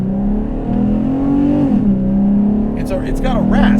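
Modified ex-rental V6 Camaro with resonators removed, engine held at a loud, close, raspy high-pitched rev that dips and rises slightly, with voices talking briefly near the end.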